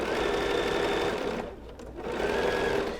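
A sewing machine runs steadily, stitching pairs of quilt blocks together, with a loud, close mechanical whir that dips briefly midway before resuming at full speed.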